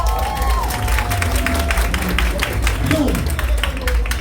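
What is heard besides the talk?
audience applauding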